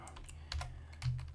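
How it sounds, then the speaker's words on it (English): Keystrokes on a computer keyboard, a quick run of crisp, close clicks in two short bursts with no talking. "just type in Jim Cramer manipulation."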